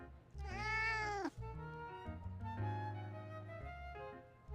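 A cat meows in the video game Love and Deepspace, one drawn-out, rising and falling meow followed by a longer, lower mewling call, close and clear without speech.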